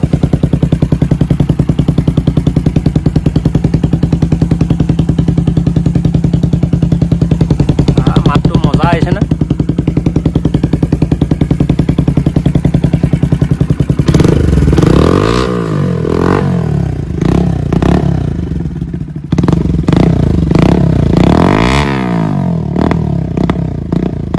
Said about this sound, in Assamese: বাইক উলিয়াই নাই এতিয়া ফুল ষ্টাৰ্টটো দি দিয়া হ'ব